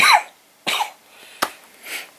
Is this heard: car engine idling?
no